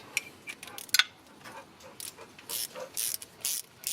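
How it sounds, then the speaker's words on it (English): Ratchet wrench turning bolts on the header of a 1994 Honda Accord, giving quick, light clicking bursts at close range with short pauses between them. "Ratchet wrench is coming handy."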